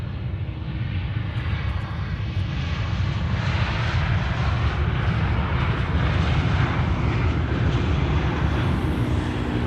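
A British Airways airliner taxiing at Amsterdam Schiphol after arriving from London Heathrow, its engines a steady, loud broadband roar that swells slightly after the first couple of seconds and holds throughout, with no voices.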